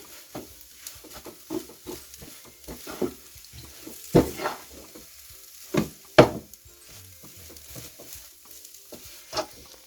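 A spoon stirs aloo matar stuffing of potato and peas with garam masala and coriander leaves in a pan, giving irregular scraping knocks over a soft frying sizzle, close and without talk.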